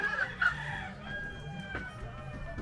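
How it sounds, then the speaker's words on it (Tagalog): Chickens cluck softly nearby, with a short crowing call near the start, fairly faint against a quiet farmyard background. "Ayun pala yung manok"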